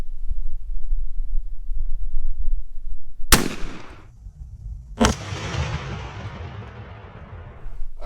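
A Winchester SX4 shotgun fitted with a Pattern Master Code Black choke fires two loud outdoor shots a couple of seconds apart, each a sharp blast trailing into a long rolling echo over low wind noise.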